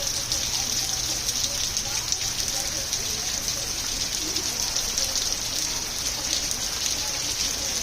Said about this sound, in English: Well, it's been raining all day for, what, 14 hours nonstop.